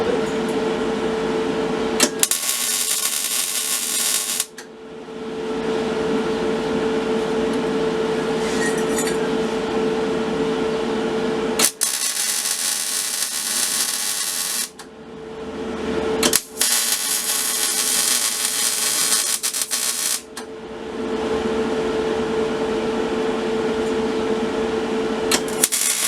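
MIG-style welding of reinforcement plates onto a BMX sidehack frame: three long, loud stretches of steady crackling buzz, separated by short quiet pauses, close to the torch with no talking.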